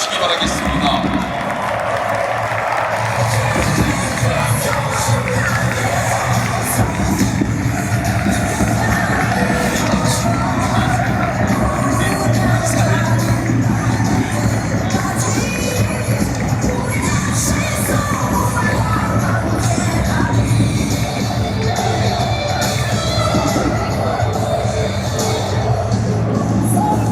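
A huge stadium crowd at a football warm-up roars, cheers and claps for a player, a dense continuous din with high shouts rising above it throughout, and an announcer's voice carrying over the noise.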